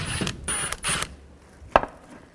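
Phillips head screwdriver working panel screws loose on a 2011-15 Kia Sorento during cooling fan removal: about a second of close scraping, ratcheting turns, then a short pause and one sharp click.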